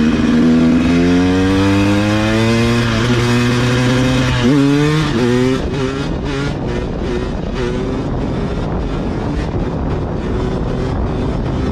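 A motorcycle ridden fast, its engine note climbing through repeated revving surges and gear changes, loud and close, then giving way to a rougher, broader roar as it speeds on.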